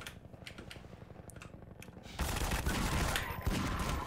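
Gunfire rattles in the Half-Life 2 video game. Rapid faint shots come first, then a louder, denser burst of automatic fire fills the second half.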